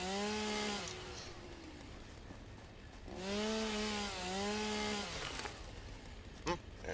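In the game Satisfactory a chainsaw fells trees, its whining motor surging in two loud revving bursts with quieter idling gaps between, ending in a short sharp knock; no voices.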